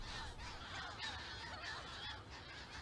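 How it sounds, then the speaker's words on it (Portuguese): A breeding colony of Audouin's gulls on a Ria Formosa barrier island calls continuously, many honking, overlapping cries blending into a dense, faint chorus heard from some distance. "existe a maior colónia reprodutora de gaivota Audoin em Portugal"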